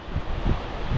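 Gusty wind buffets the microphone high on the summit of Ben Nevis, a short burst of low, rumbling roar that swells and dips without pause.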